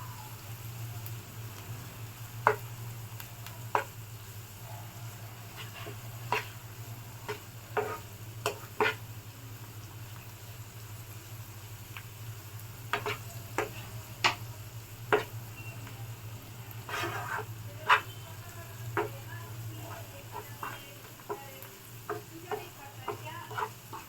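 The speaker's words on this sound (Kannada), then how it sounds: "ಈಗ ಎಲ್ಲನೂ ಚೆನ್ನಾಗಿ ಫ್ರೈ ಮಾಡ್ಕೊಳ್ಳಿ" Egg curry masala with chili powder fries in a pan, a steady low sizzle broken by frequent scraping and stirring knocks from a spoon, close and fairly loud with no talking.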